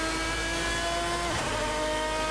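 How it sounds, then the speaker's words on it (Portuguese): A GT race car engine in Assetto Corsa drones and revs continuously, loud and close, with a brief dip in pitch midway before climbing again. "É muito legal o barulho desse carro."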